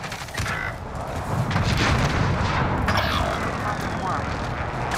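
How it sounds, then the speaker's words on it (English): Friendly precision airstrike explosions in Call of Duty Modern Warfare, a sustained loud rumbling barrage of booms and blasts lasting several seconds with no breaks. "Friendly precision airstrike inbound."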